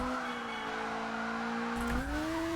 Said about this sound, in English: Drift. Beautiful drift.